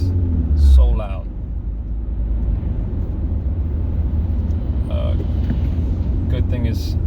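A manual car driven without its catalytic converter gives off a loud, steady low exhaust drone that fills the cabin from start to finish, while someone speaks briefly over it a few times.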